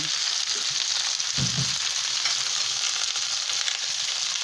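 String beans sautéing in a pan for adobong sitaw, a constant close sizzle with one brief stirring thump and no speech.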